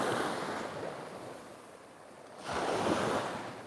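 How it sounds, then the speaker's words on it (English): Surf washes up on a beach in Hua Hin, Thailand, in two broad, steady swells of rushing water with some wind noise, fairly close and with no voices. "Heading on down the beach."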